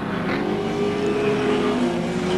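Engine of a Nissan Skyline touring race car at the 1989 ATCC round at Mallala, a steady droning roar holding fairly loud throughout with a slight rising pitch as it passes.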